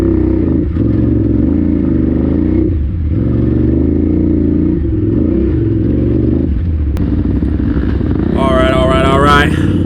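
An adventure motorcycle of about 990cc rides off-road through the woods, its engine droning loudly and steadily close by with slight shifts in revs, and a voice speaks over the noise near the end.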